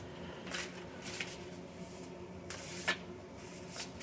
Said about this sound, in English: So, shuffling these up a little bit.